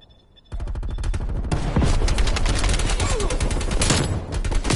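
Loud, dense video-game gunfire erupts after a half-second lull, rapid automatic bursts rattling continuously, with shouted voices faintly underneath.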